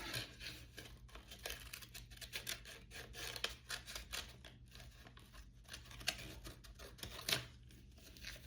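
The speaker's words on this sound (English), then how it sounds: "I almost want to use like scissors to open this." Quiet, close snipping and rasping of scissors working through packaging, with irregular crinkles and small cuts, no talking.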